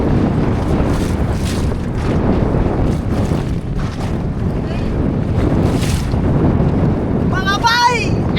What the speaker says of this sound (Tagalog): Mula na yung hangin mga bay.